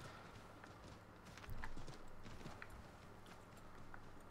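Horse hooves clip-clopping in Assassin's Creed III, a quick, steady run of hoofbeats that rises briefly in loudness and carries on under faint background game ambience.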